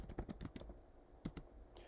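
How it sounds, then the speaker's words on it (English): Soft keystrokes clatter on a computer keyboard in quick bursts, with a pause and then a few more taps as words are typed, faint and close. "I'm going to create the list just by typing some words in here."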